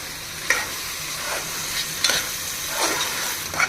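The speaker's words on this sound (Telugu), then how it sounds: "రెండు గరిటలు పెరుగు వేసుకోవాలి ఇప్పుడు బాగా కలపాలండి" Prawn pulao gravy bubbles with a constant frying hiss while yogurt is stirred through it, a ladle scraping the pot in several distinct strokes about a second apart, close and without talk.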